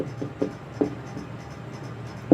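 A sentence is written out by hand in short, faint scratching strokes with brief pauses between them, quiet and close with no talking.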